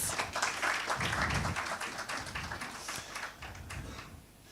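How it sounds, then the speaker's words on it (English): Audience at the Halal In Travel Global Summit 2025 evening ceremony applauding guests invited on stage for a photo, fairly faint, steady clapping from a mid-sized crowd that thins out toward the end. "Mr. Harry Huang, let's give him a round of applause."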